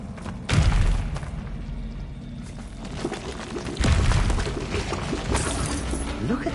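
Bombarda spell explosions in the Hogwarts Legacy video game: heavy booms with shattering debris, one burst early and another near the middle, followed by crumbling and clattering rubble.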